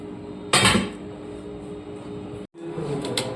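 Fried potatoes tumble into a pressure cooker with one sharp clatter of pieces hitting metal, followed by quieter kitchen rustling and a brief clink near the end.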